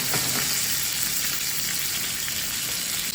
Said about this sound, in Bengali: কই মাছটা এপিট ওপিট ঘুরায় খুব ভালো করে ভেজে নিতে হবে